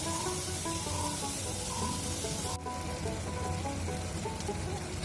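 Vegetables sautéing in a pan for a papad and vegetable dish give off a steady, dense sizzle with faint stirring, loud and close throughout.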